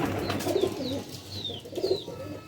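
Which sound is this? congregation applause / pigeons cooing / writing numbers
pigeons cooing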